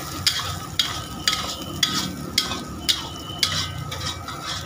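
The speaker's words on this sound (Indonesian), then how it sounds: "Aduk sampai telurnya matang." Four eggs fry in a pan for village-style fried rice, sizzling steadily while a utensil scrapes and stirs in regular strokes about twice a second. The sound is close, with no talking.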